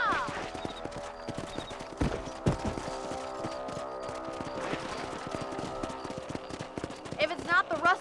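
Horse hooves clip-clop on a ranch in the Red Dead Redemption video game, a steady trotting rhythm running beneath game music and a voice throughout.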